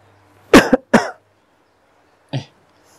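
An elderly father coughs twice in close succession, loud and near, then gives one shorter cough after a pause; no talking.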